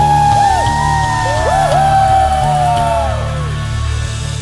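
A group of children in an online church service shout a long rising "whoo" together, loud and sustained, with several voices sliding up and down over a steady background hum.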